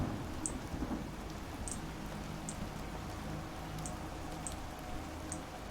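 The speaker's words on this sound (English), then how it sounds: "Video game rain." Steady rain from the video game In Sound Mind, a continuous even hiss filling the scene, with occasional faint higher ticks scattered through it and no voices.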